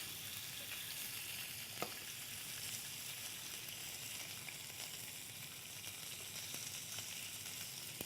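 Smoked meat and fish fry in a pan with a steady, even sizzle that holds at the same level throughout, broken only by a faint tick or two.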